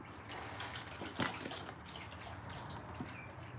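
A dog laps from its water bowl at home, giving soft, irregular wet splashes and drips, close but faint against a steady background hiss.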